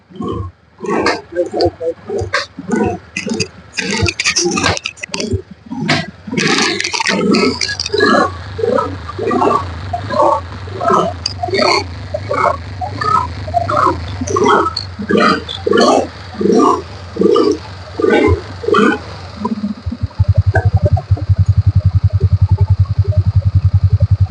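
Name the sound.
Suzuki Access 125 scooter engine running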